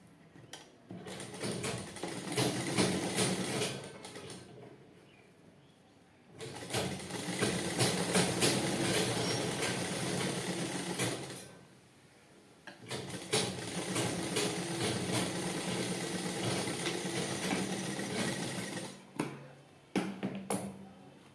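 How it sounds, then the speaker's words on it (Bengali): Sewing machine stitching a blouse front at a half-inch seam, running in long steady bursts of fast mechanical whirring and rattling, with short pauses between runs and no talking. "এটাও আমি 1/2 ইঞ্চি ধরে সেলাই করে নিচ্ছি।"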